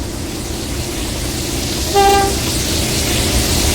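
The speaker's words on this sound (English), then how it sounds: "37407 leads the set onto the single track section to Seaforth." Class 37 locomotive 37407 hauling a railhead treatment train in a train simulator gives one brief two-tone horn blast over a steady engine rumble on a single track section.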